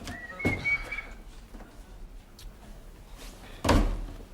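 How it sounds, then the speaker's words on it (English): A front door opening and then slamming shut, with a sharp thump early on and a heavier bang near the end. A creak or whistle-like squeak sounds between the two hits, with no talk. "The front door!"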